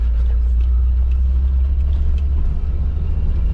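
A car rolls along in second gear after a manual shift, a loud, close, low engine rumble with road noise that stays fairly even, easing slightly toward the end.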